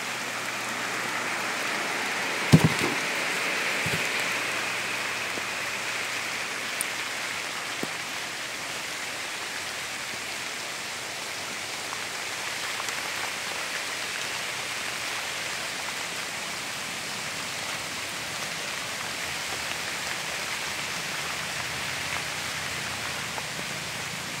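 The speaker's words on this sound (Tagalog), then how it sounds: "Lumakas na yung ulan." Heavy rain falls steadily on a durian and cacao farm, a soft continuous hiss of drops on leaves and ground, with a brief knock near the start.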